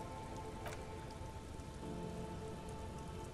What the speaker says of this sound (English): She puts her hand in the rain.